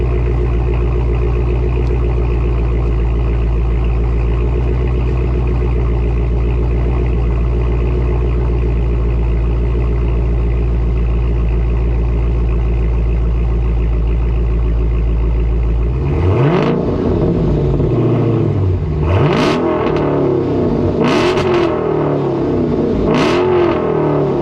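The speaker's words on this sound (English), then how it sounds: "Give it a couple revs." A 2023 Dodge Challenger Scat Pack with the mid muffler and resonator deleted idles with a steady, deep drone, then snaps through several sharp, loud revs near the end.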